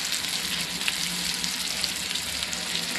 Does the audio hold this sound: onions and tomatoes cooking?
yes